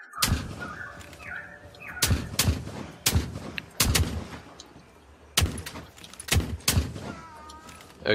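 Shotgun blasts in the survival PvP video game Nether, about eight loud, sharp booms in irregular succession, some spaced a second apart and others closer, with faint game ambience between shots.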